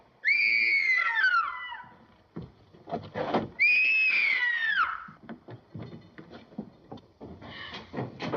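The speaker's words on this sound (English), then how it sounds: "What made you scream?" A woman screams twice in an old mystery film aboard a ship, two loud, shrill, falling shrieks separated by a few seconds, with shuffling and faint movement noises between and after.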